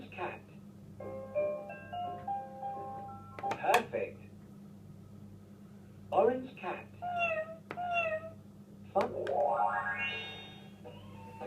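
Several synthetic meows and chirpy electronic animal sounds from a children's animal-learning toy, with a cat meow among them, arriving as short, bright bursts separated by gaps over a steady low hum.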